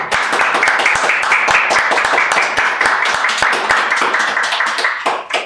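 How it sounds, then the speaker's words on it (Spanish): Audience applause for a guest on a podcast, a dense, steady wash of many hands clapping at close range that fills the whole stretch and tapers slightly at the end. "pido un aplauso para Héctor"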